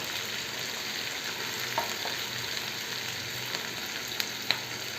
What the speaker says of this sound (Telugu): ఆనియన్, మంచి గోల్డెన్ కలర్ ఫ్రై అవ్వాలి ఆనియన్స్